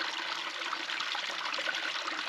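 Stream water running near a Roosevelt Lake campsite in Tonto National Forest, a continuous trickling, bubbling flow that stays close and even, with no voices over it.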